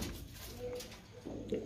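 Pigeons at a pigeon club in Faridkot, Punjab, give low, soft coos, with one brief coo in the middle and a clearer coo near the end over a faint, steady background.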